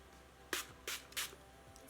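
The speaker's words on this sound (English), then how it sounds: "With my setting spray and just set everything in place." Makeup setting spray hisses out in three short, quiet bursts spaced about a third of a second apart, close by in an otherwise hushed room.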